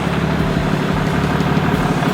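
Ram 3500 pickup truck with a leveling kit, engine running at a steady loud idle rumble close by while being pulled out of a garage, continuous and even with no talking.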